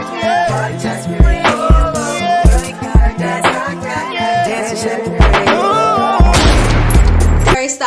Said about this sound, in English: The famous gunshot heard across the world.